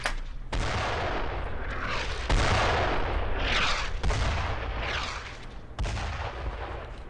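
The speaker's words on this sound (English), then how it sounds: "Those mortars are awfully close." Mortar and artillery fire in the World War II shooter Brothers In Arms: Road to Hill 30, a string of heavy booming blasts and rumbling impacts landing close, loud and dense, with no talk over it.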